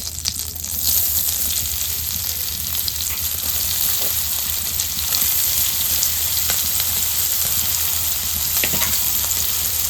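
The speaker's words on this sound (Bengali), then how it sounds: "তারপর ওতে দিয়ে দিব কোচানো পেঁয়াজ" Sliced onions sizzle steadily in hot oil in a pan used for a Bengali-style crab and potato curry, a dense, even hiss running close and loud for the whole stretch with no talk.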